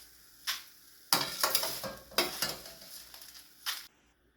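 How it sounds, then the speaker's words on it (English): Washed gongura (roselle) leaves hit hot sesame oil in a pan with short bursts of sizzling and stirring, several crackling spurts separated by brief pauses, close and fairly loud. "in the same pan I have taken about 2 tablespoons of sesame oil and put all the washed and cleaned leaves into the pan"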